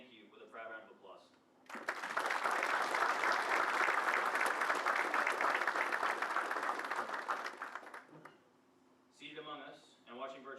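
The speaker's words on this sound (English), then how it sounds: "Please join me in saying thank you with a proud round of applause" Audience applause for class commanders and supervisors at an Air Force Airman Leadership School graduation, a loud sustained burst of many hands lasting about six seconds, with a speaker's voice before and after.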